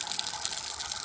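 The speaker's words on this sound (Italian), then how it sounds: "mentre riempio la bottiglietta d'acqua" Tap water gushing steadily into a small plastic water bottle being filled, a continuous loud hiss of running water with no talk.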